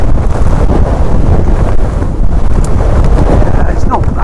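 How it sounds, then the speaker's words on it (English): Strong wind buffets a mountain biker's microphone on a trail at Glentress, making a steady, loud roaring rumble with gusty flutter throughout. "Right now I've got wind against my side"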